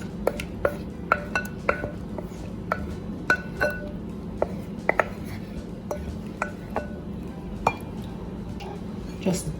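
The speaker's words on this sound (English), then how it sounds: "Just gently stir it" Sauce being gently stirred into potato salad in a bowl: a string of close, light clinks and taps of a utensil against the dish over a low background hum, irregular and unhurried, no talking.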